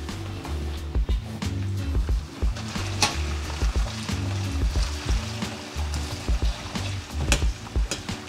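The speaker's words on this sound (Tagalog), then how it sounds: "prituhin muna natin tong carrots at patatas" Carrots and potatoes frying in hot oil in a pan, a loud continuous sizzle and crackle near at hand, broken by repeated clanks and scrapes of a utensil stirring against the pan, with no talking.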